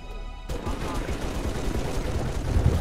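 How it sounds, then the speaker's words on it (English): Rapid turret gunfire in Halo ODST Firefight against the Flood, a dense continuous rattle of shots that starts abruptly and keeps going, loud and close with game noise behind it. "I'm shooting this freaking meat with the turret."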